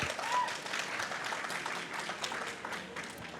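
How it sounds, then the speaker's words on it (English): An audience at a live podcast recording in an Apple venue claps in a steady, dense round of applause that tapers slightly toward the end. "Round of applause."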